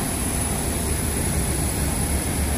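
A Fiji Airways small passenger plane waits on the apron at Nadi airport for boarding to Tarawa, giving a steady, dense engine and ground roar with no breaks.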